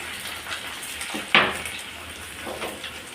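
Dried red chillies and garlic fry lightly in hot oil for mango dal, a soft background sizzle punctuated by a single sharp metallic clink of a spoon against the pan.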